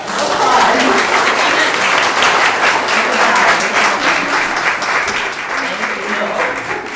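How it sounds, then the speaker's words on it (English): A church congregation gives the children a loud, sustained round of applause, a thick continuous roar of many hands clapping at close range for the full stretch, with a faint voice murmuring underneath. "Let's give them a round of applause"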